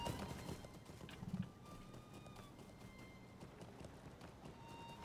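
A horse's hooves clip-clop in a video game, faint and steady under ambient game sounds. A brief louder burst comes early, followed by soft tonal chimes.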